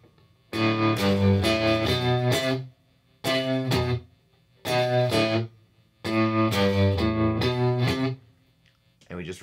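An electric guitar plays a distorted riff in repeated phrases, each a few seconds long with short gaps of silence between, loud and close, no voices.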